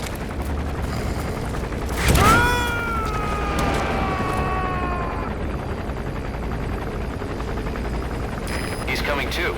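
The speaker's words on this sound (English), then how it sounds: "The chopper will be arriving any minute." Helicopter from the video game Metal Gear Solid V arriving, a rising rotor wash swelling near the start beneath music and game effects, then a steady broadband roar holding to the end.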